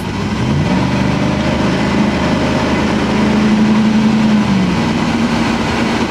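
A Chevy Express van with a swapped-in 6L90E automatic transmission downshifts at around 45 mph on a test drive, a loud, steady engine drone from inside the cab with the pitch sliding and shifting as the gear changes.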